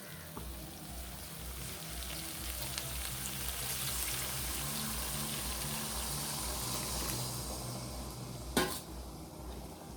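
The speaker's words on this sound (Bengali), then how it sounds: "এবার আমি পরিমাণ মতো জল দিয়ে দেবো" Water is poured into a simmering potato and pointed gourd curry in a pan. It makes a steady, close wash of splashing and bubbling throughout, ending in one sharp clink near the end.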